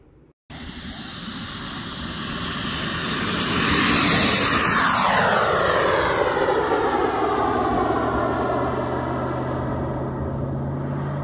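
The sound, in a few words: RC turbine jet with King Tech 260 engine flying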